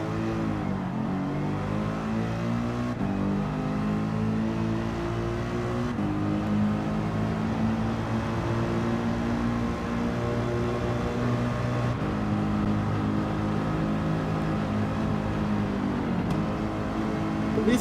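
Mercedes-AMG race car engine in Gran Turismo, a loud continuous roar climbing and dropping through the gears as it accelerates, with brief lifts at each shift across a long run.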